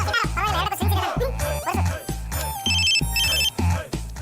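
A telephone rings in an indoor office scene from a Kannada TV serial, its repeated electronic ring pulses loud and close over a steady background tone.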